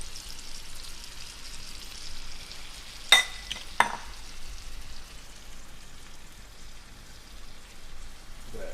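Steak bites frying in melted butter and soy sauce in a pan, a steady close crackling sizzle with a couple of sharper spits and clatters midway.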